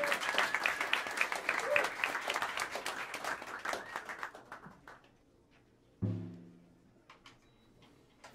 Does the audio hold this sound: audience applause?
yes